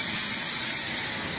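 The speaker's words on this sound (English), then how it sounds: "You can hear some noise in the background, that's some steam." A steady, loud hiss of a steam cleaner used to detail car rims and tires runs continuously without a break.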